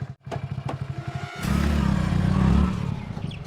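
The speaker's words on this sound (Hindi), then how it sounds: "अगर अचानक से दोस्त नई नई बाइक लेकर घूमने आने लगे" A new Hero Splendor motorcycle idles with a rhythmic low putter, then revs up into a louder, steady engine roar close by before easing off slightly.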